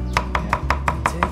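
Knife chopping food on a board in a restaurant kitchen while nasi goreng and fried bihun are prepared, six sharp, evenly spaced chops in quick succession over a low, steady kitchen hum.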